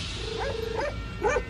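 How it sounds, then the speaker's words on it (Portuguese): Tibetan mastiffs guarding a nomad tent bark and yelp in a few short, close calls over a constant background rumble of wind or noise. "Guardando a entrada da tenda estão sempre dois cães enormes, os ferozes mastins tibetanos."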